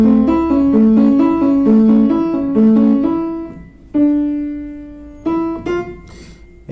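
Arpeggiated chords from the Gravity Falls theme on a piano or melodica, quick alternating notes in a repeating pattern, then a few held single notes and brief pauses, close and clear.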